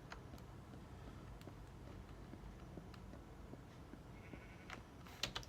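Sheep bleating in the Minecraft video game, a few short, quiet bleats over a faint steady background with occasional soft clicks, and no talking.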